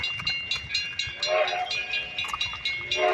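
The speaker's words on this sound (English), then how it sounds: "steam train's headed around this direction" A steam train, the Edison locomotive at Greenfield Village, approaches from a moderate distance, its rhythmic chuffing punctuated by sustained whistle tones that swell and fade.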